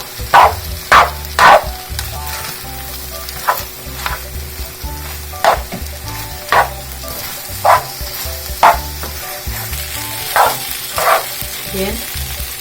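Pork chop and pineapple frying in a pan for a Hawaiian-style dish with mango habanero sauce, giving a loud steady sizzle broken by repeated sharp bursts as the food is stirred and turned, with no talk.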